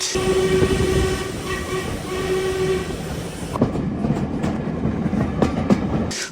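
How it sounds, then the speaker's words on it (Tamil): An old steam train rattling and clattering along the rails in England, with a sustained horn-like tone early on, then rhythmic clacks as it rolls on, close and loud. "அந்த தண்டவாளத்தில் வந்து சடக் சடக் என்று போகிற அந்த சத்தமும் நல்லா இருக்கும்"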